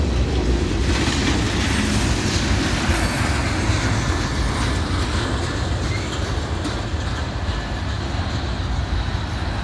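A short freight train with a steel coil car rolls through a railroad crossing, its wheels rumbling and clacking loudly and continuously up close, with a faint squeal on the rails.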